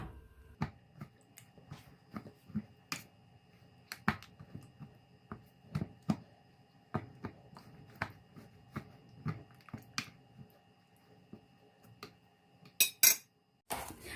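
A metal fork pricks raw pork neck meat again and again, giving sharp, quiet taps and clinks at a steady, uneven rhythm, with a couple of louder knocks near the end.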